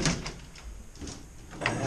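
Old manually operated hotel lift doors are pulled open by hand, giving a few soft clunks and sliding rattles at close range in a quiet corridor, with no talk.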